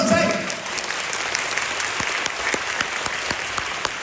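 An audience claps for the best dancer at a ballet school show, a loud continuous round of applause with sharp individual claps standing out, while a voice speaks briefly over it.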